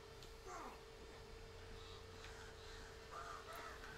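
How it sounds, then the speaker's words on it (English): Crows caw a few times in a game of Uncharted 2: Among Thieves, short harsh calls over a steady noisy ambient bed with a constant hum. "Shut up, birds."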